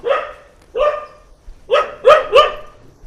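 Dogs bark at a hillside forest temple in a rural field, five loud close barks, two single ones and then a quick run of three.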